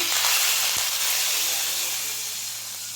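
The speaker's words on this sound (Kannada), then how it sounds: "ಸಾರಲ್ಲಿ ಒಗ್ಗರಣೆ ಹಾಕಿಡೋಣ." Hot oil tempering with spluttering mustard seeds hisses and sizzles loudly as it is poured into a pot of chappara avarekai (field bean) sambar, a steady bright spray of sound that slowly fades.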